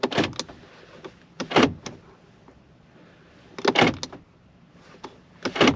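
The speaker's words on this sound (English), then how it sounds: "Now we're going to get in, close the door, figure out which way is lock." Door of a 2007 Jeep Wrangler Unlimited X shutting, with a sequence of sharp, close metallic clunks and latch clicks arriving in clusters a couple of seconds apart, separated by quiet interior stillness.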